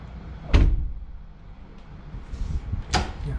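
A wooden apartment door closes softly against rubber beading, with two muffled thuds about two and a half seconds apart and quiet room tone between them.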